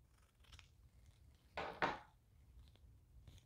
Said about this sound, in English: I'm gonna have to use my big ribbon scissors